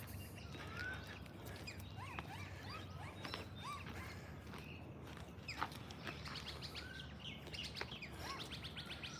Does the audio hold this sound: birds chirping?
yes